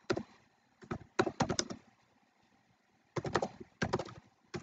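Keys clack on a computer keyboard in quick bursts of typing, separated by short pauses, close and fairly loud with no voices.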